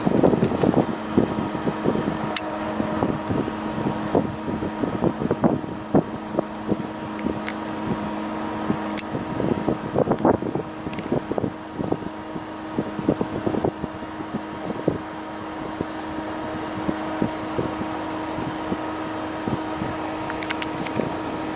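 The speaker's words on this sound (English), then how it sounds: "Wind's starting to pick up a little bit." Gusty wind rushing past the microphone at the leading edge of a storm shelf cloud, a steady roar with buffeting flaps and bursts throughout, loud and close.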